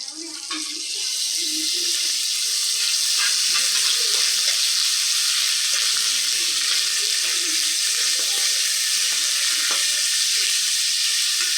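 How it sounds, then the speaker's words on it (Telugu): Onions and green chillies fry in a pan for bagara rice, giving a steady, even sizzle that holds for the whole stretch with no talking. "ఉల్లిపాయ, పచ్చిమిర్చి కూడా వేసుకొని దోరగా వేయించుకోవాలి."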